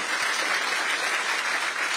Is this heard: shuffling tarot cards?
no